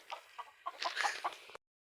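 Hens clucking while they feed, a few short, close chatter-like clucks in quick irregular bursts before cutting off abruptly.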